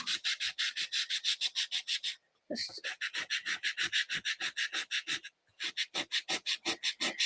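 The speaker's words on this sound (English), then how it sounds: "To get a coarser sandpaper, it'll probably get a better sand" Sandpaper is rubbed back and forth over a craft piece in quick, steady strokes, a close, rhythmic scratchy hiss broken by two short pauses, with no talking.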